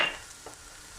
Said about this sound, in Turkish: Soğanlarımız hafiften pembeleşince kalan malzemeleri de eklemeye devam edeceğiz.